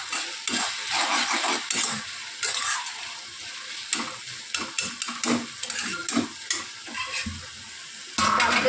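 Bottle gourd and fish head with sugar are stirred in a pan, a soft frying sizzle broken by repeated close scrapes and clacks of the spatula, with no voices.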